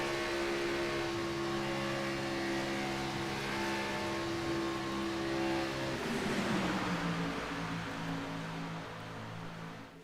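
A race car engine at Talladega holds a steady, loud onboard drone as the driver works the throttle, its pitch dipping and swelling midway before settling, with no talk over it.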